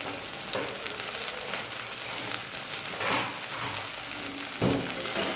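Okra curry gets stirred in a pan, the ingredients crackling in a continuous sizzle while a spatula scrapes through at intervals, with a couple of louder scraping strokes.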